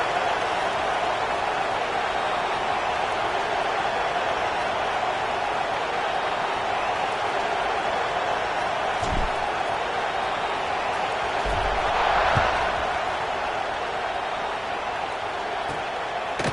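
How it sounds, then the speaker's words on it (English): Steady dense roar of a college football stadium crowd at an NCAA game, lining up for a kickoff after a touchdown, a broad continuous buzz with a brief swell of cheering near the end. "this crowd is buzzing after that last score"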